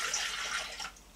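Water streams steadily into a Thermomix bowl for bread dough, a continuous close splashing pour lasting about a second before tapering off.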